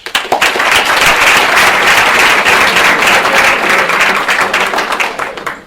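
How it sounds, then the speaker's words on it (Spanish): An audience at a science lecture on the long-eared owl in the Canary Islands breaks into loud, sustained applause welcoming a speaker, a dense wash of clapping that fades slightly at the end. "presentarle y recibirlo con un fuerte aplauso"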